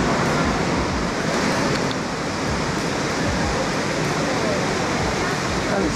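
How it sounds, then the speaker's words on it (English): Niagara Falls pours in a steady, loud, full-bodied roar of rushing water that never lets up, with people talking faintly over it. "Imagine the force of that water coming down."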